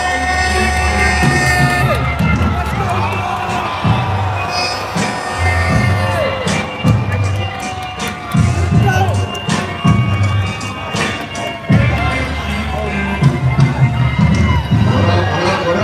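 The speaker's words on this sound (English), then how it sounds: "Give a big round of applause for our hosts, LeBron James and Tyrese Haliburton." A live show crowd in New York cheers, whoops and yells for hosts LeBron James and Tyrese Haliburton, a loud, continuous wash of shouting and cheers with voices mixed in throughout.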